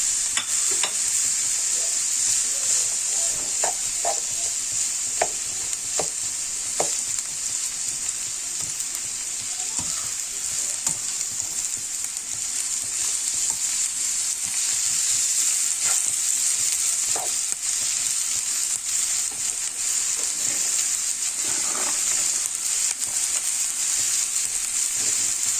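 Minced meat sizzles steadily in a pan after a light sauté, a constant loud frying hiss broken by occasional scrapes and clinks of stirring, with no talking.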